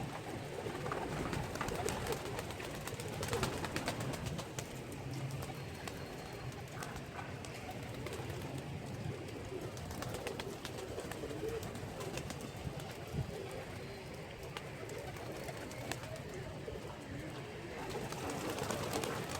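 Pigeons coo and shuffle nearby amid a steady outdoor background, with soft flutters and pecking sounds throughout.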